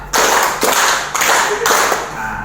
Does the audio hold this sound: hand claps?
yes